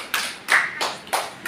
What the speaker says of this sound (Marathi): शाबास, जोरात टाळ्या.